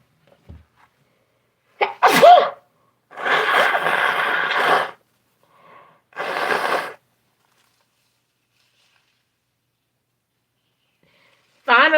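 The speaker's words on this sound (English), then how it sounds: "Finally, the sneeze came out." A single loud sneeze rings out clearly from someone indoors, then brief rustling and quiet follow.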